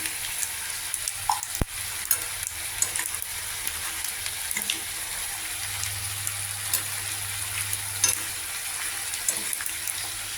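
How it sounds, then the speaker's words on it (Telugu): Chillies and asafoetida tempering sizzle steadily in hot oil in a pan for a tangy mango chutney, a continuous close crackling frying hiss with a sharp clatter near the start and a low hum midway, no voices. "పోపు వేగింది ఇప్పుడు ఇందులో ఇంగు వేసుకోవాలి"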